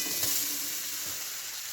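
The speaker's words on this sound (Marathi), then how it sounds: "ह्याच्यामध्ये मी मंद आचेवर एकदम ते खोबरं व्यवस्थित थोडंसं परतून घेणार" Grated fresh coconut roasts in melted ghee over low heat, giving a steady close hiss and sizzle with faint stirring scrapes and no talk.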